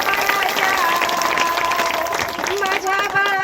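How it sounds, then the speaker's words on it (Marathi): A crowd at a women's gathering breaks into applause, a dense wash of clapping mixed with voices and a few tonal sounds, loud and continuous for a few seconds. "टाळ्या."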